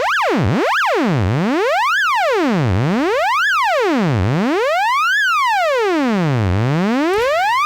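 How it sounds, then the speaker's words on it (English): A smooth triangle-wave tone from a Dubreq Stylophone Gen R-8 synthesizer sweeps repeatedly up and down in pitch, in even rising and falling glides, loud and alone. "We have a triangle, which should sound very similar to a sine wave."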